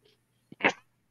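A single sharp human sneeze, close and fairly loud, preceded by a brief intake of breath in an otherwise quiet room.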